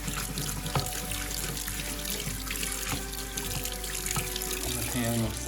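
Hot tap water runs steadily into a sink while a crusty stainless steel pan is washed, a continuous splashing rush with a few knocks of the pan and a brief voice partway through.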